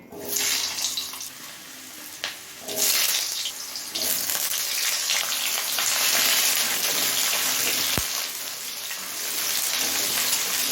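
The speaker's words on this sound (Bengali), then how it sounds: "এবার এই একই তেলে আলুটা ভেজে নেব" Potatoes fry in hot oil in a pan for a broccoli paneer curry, a dense, steady crackling hiss that stays close and even throughout, with a brief louder surge near the start and one sharp knock partway through.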